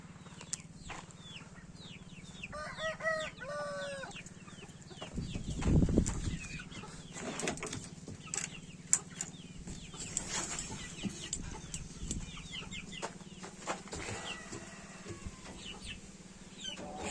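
Chickens cluck and a rooster calls near a chick coop, with repeated short calls and scratchy movement across the clip, plus a louder low thump around the middle.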